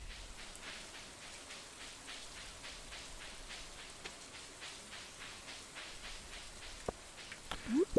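Steady rain pattering in Stardew Valley, a soft even wash with faint rhythmic ticks throughout and a couple of brief sharper sounds near the end.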